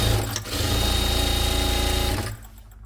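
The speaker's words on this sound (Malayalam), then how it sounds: "നമുക്ക് പൈപ്പിംഗ് സ്റ്റിച്ച് ചെയ്യാം" A sewing machine runs steadily and close by as it stitches piping onto a cloth doormat made from old fabric. Its fast, even motor whir drones for about two seconds and then stops.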